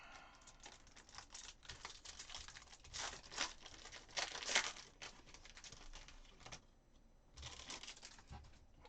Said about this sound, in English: let's rip some packs